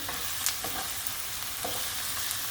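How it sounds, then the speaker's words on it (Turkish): Steady sizzling of garlic and onions frying in a pan, with a few light scrapes and clicks of stirring mixed in, close by and with no talk. "İçerisine sarımsaklarımı ilave ediyorum."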